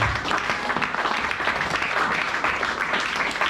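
A church congregation applauds together, a dense, even wash of clapping that holds steady from start to finish with a faint murmur of voices beneath.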